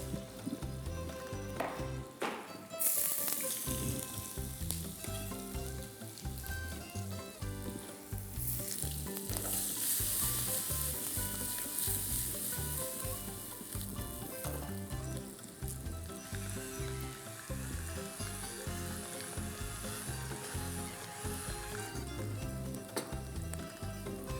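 Butter sizzles in a frying pan as a cook prepares chicken fillet with pancetta, a dense, steady crackle with stirring and clattering utensil sounds, close up and without speech.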